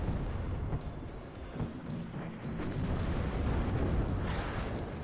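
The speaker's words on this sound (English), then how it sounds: "Artillery coming in on that." Artillery barrages in the Cold War strategy game WARNO land as dense, continuous rumbling blasts, loud and sustained, with overlapping booms swelling toward the end.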